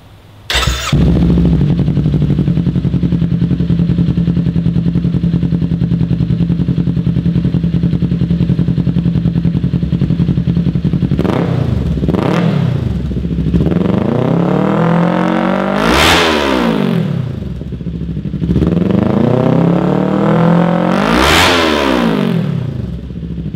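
A 2018-2023 Kawasaki Ninja 400 engine starts, idles with a deep steady rumble, then revs hard three times in loud, sharp bursts through a raspy Yoshimura full race exhaust.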